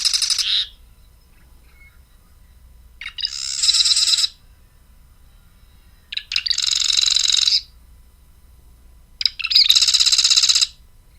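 Two populations of a songbird sing in turn, each a separate, buzzy, high-pitched phrase of about a second, spaced by gaps of quiet in a clean field recording.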